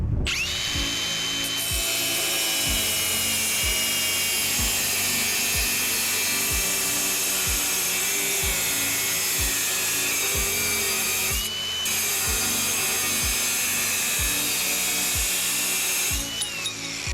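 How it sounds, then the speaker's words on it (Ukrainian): An angle grinder with a diamond cutting disc cuts through 5 mm ceramic tile, a loud, sustained high whine with a steady rhythmic pulsing underneath, briefly dipping twice as the cut continues. "Наскільки швидко воно відріже 30 сантиметровий відрізок кераміки з товщиною 5 міліметрів."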